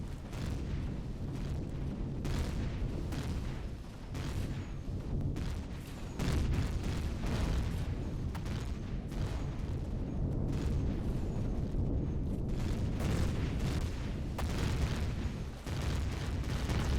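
Player's ship blowing up in Empyrion Galactic Survival, a loud, sustained rumbling explosion that roars continuously for many seconds with repeated bursts and crackling blasts layered on top.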